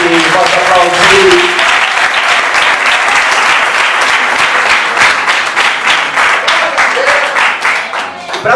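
Loud, sustained applause from a church congregation fills the whole stretch, dense and steady with a slight fade near the end, while a preacher's voice carries over it at the start.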